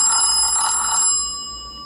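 Ringtone of an Ulefone Be Touch phone, a tonal electronic melody of sustained bright notes playing moderately loud and close, then cutting off and fading after about a second.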